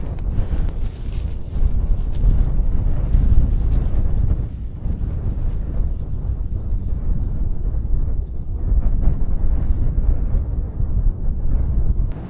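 Strong winter wind buffets the microphone on Crag Hill, a snowy mountain summit, as a steady, loud roar that surges and dips without pause for the whole stretch.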